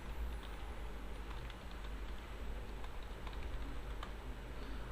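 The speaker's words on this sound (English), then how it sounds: "Let me type my name and some address" Someone types a name and an address on a computer keyboard. The key clicks are soft, steady and close, set against a constant low background hum.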